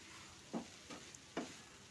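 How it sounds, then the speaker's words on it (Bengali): Fried vegetables for a prawn and green banana curry are stirred into spices in a frying pan: three soft, brief scraping strokes over a faint, quiet sizzle, without talk. "এবার এই সবজিটা মশলাটার সঙ্গে বেশ সুন্দর করে নেড়ে চেড়ে দিতে হবে"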